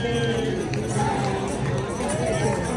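A large crowd gathered at Premanand Maharaj's ekantik vartalap, a steady, dense murmur of many voices and shuffling that holds at an even level throughout.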